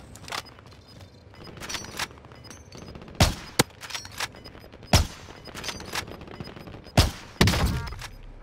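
Gunfire in a first-person shooter game: scattered sharp shots, some single and some in quick pairs, loud and close against a low background of rapid clicking and game noise, with no talk.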